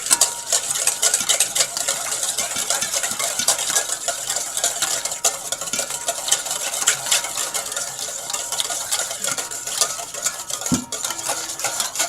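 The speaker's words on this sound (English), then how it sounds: "we're just going to consistently whisk it until everything comes together" Extra virgin olive oil is whisked into a dressing for a Tuscan-style tomato and sourdough bread salad. The whisk makes a fast, continuous scraping and rattling against the bowl, close and fairly loud, with no talking.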